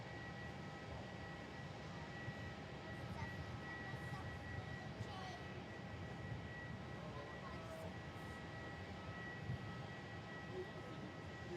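Qantas airliner landing on runway 16 at Melbourne Airport on a calm evening: a steady, fairly distant engine roar with faint whining tones that holds level throughout, with no other sounds standing out.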